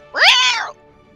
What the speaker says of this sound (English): And you hear just this yowling of this poor cat.